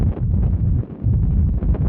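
Strong wind at the Black Canyon overlook near Lake Mead, Nevada, batters the microphone in a loud, continuous low rumble with gusty surges and no other sounds.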